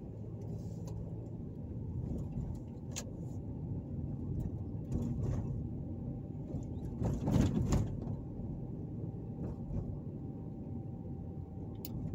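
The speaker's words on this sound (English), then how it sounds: "I'm gonna go ahead and just drive down some of these streets here in downtown" A car drives through the downtown streets of Evansville, Indiana, heard from inside as a steady low road and engine rumble, with a few faint passing noises and a brief louder swell midway.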